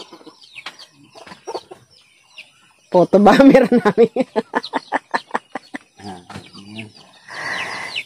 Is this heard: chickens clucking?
yes